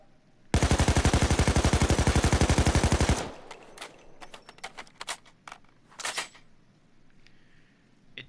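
AK5 assault rifle in Payday 2 fires one sustained, rapid full-auto burst of loud, evenly spaced shots lasting almost three seconds, followed by scattered single clicks and short mechanical clacks.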